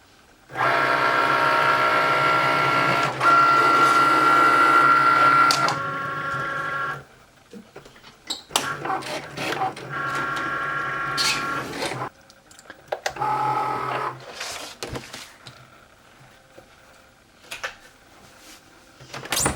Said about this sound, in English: and insert it into our machine. and cut.